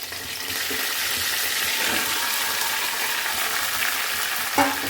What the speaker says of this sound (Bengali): এখন আবার তেলে আবার একটু কালো জিরে দিলাম, দিয়ে ভাজাটা করব।